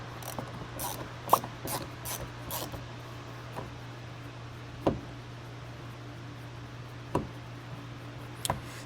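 Quick ratchet clicks in short bursts undo a single bolt inside a Honda Civic Si door with the panel removed, close and fairly faint over a steady low hum, with a few louder isolated ticks toward the end.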